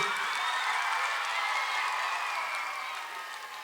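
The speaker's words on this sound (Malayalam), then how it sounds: "എല്ലാവരും ചേർന്ന് നല്ലൊരു കയ്യടി" An audience at a televised Onam stage show applauds a teacher after her dance, a dense, steady wash of clapping from a large crowd that holds evenly and fades slightly near the end.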